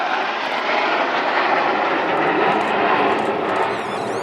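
RAF Red Arrows jets fly a display at RIAT 2025, a loud, broad jet roar that swells and holds steadily overhead before easing slightly at the end, with no voices over it.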